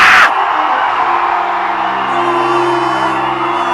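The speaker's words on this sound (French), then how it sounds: "On va pousser des cris de victoire." A crowd at a spiritual worship gathering shouts victory cries together, a loud sustained roar of massed voices that swells in at once and holds steady throughout.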